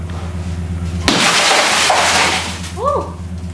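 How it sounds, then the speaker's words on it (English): A car window's glass is smashed at a speedway event, a sudden loud crash breaking over a low engine drone, followed by a brief scattered hiss of debris and a faint whistle-like tone. "I think you should smash it right on the glass part"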